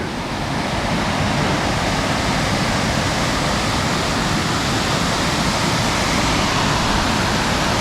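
Loud, unbroken rushing of a nearby waterfall, a dense even roar holding steady throughout with no other sounds standing out.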